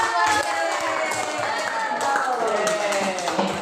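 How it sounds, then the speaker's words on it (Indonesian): A classroom of students applauds a classmate's presentation, a steady wash of clapping heard close and fairly loud for a few seconds, with some voices mixed in. "beri aplaus untuk temannya"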